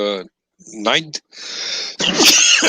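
A single sharp sneeze bursts out between short bits of talking voices.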